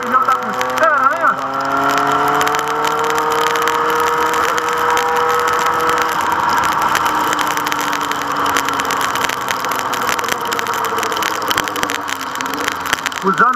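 Honda Hornet motorcycle engine running on a wet city avenue in the rain, a steady mid-pitched hum with rising and falling harmonics as the rider eases along, with someone talking over it throughout.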